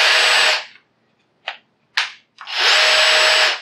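Metabo BS 18 LTX BL cordless drill whirring at high speed, cutting off, firing two sharp impulse-mode clacks, then whirring loudly again, close up with no talking.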